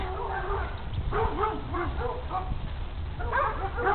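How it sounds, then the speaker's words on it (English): Neighbouring dogs barking and yipping beyond a backyard with young peach trees, a run of repeated barks at moderate distance over a steady outdoor background. "those are the neighbor's dogs"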